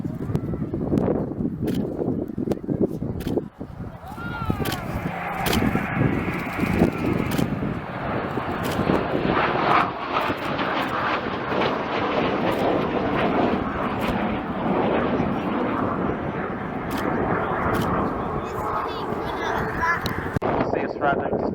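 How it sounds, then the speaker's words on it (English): A Eurofighter Typhoon jet flies at the RAF Cosford air display, a loud, sustained engine roar that swells and holds, while an announcer speaks over a public address system. "Display in front of yourselves with the Typhoon today."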